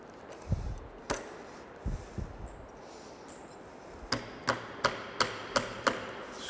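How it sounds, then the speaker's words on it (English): Metallic tapping of a hammer squaring a flat washer on a utility-pole transformer mount: a few scattered taps, then a steady series of sharp, evenly spaced strikes, close up with no talking. "Squaring the washer with a hammer."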